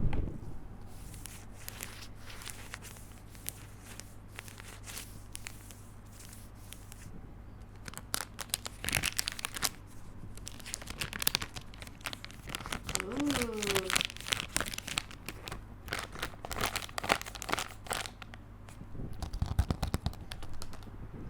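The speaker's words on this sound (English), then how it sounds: "Listen to the way this page sounds though. It's like made of plastic or something." A thin, plastic-like see-through sketchbook page is flipped and crinkled close up, giving scattered crackling rustles that grow busier in the second half. A voice talks faintly underneath.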